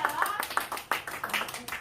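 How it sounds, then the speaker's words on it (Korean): A community gathering audience breaks into brief clapping that runs under a speaker's voice, short bursts of hand claps overlapping with talk. "박수 맞으세요"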